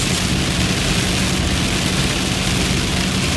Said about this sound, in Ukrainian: Але дощ такий падає, просто лиє.